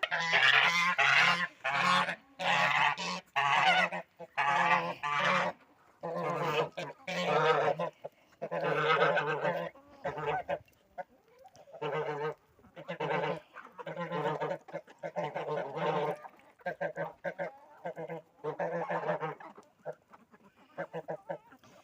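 Geese honk repeatedly in loud, choppy bursts as they are let out in a farmyard, several birds calling over one another nearby with brief pauses between volleys.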